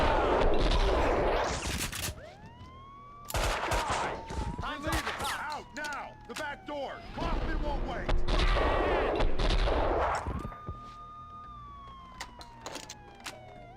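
Gunfire rattles through a Max Payne 2 shootout in repeated loud bursts and volleys, with sirens wailing and in-game voices speaking between the shots.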